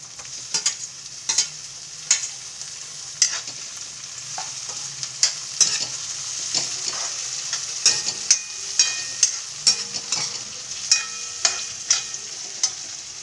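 Onions and chillies frying in a pan, stirred with a utensil that gives repeated sharp scrapes and clinks over a steady background sizzle, heard close with no talking.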